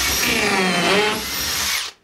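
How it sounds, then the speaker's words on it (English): Power drill boring pocket holes in wood clamped in a pocket-hole jig, a loud, close, continuous whirring bite for about two seconds that winds down at the end. "Basically clamp that down like this, and then I run 2 pocket holes"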